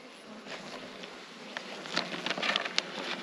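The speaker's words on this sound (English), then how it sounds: "Oh, we've got a few bees though" Bees buzzing around a rescue beehive, a steady close insect hum with individual bees darting past, no voices.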